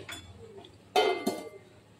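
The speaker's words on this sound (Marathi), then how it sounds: "तर यावर झाकण ठेवते" A metal lid is set onto a cooking pan: a faint scrape, then a sharp, close clink followed by a second, softer knock.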